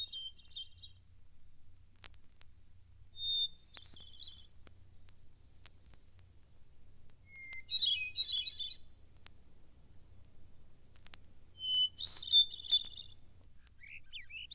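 A thrush sings in short, high, fluty phrases, four spaced bursts over a quiet background hum, faint and somewhat distant.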